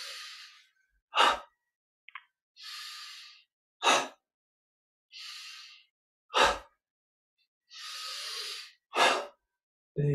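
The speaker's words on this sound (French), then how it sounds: "Expire, d'un coup sec, on se tourne vers la gauche avec contraction des bras et de la poitrine." Forceful exhalations in a Yogoda energization breathing exercise: short, sharp bursts of breath alternate with longer, softer breathy sounds in a steady rhythm, close and alone with no talk.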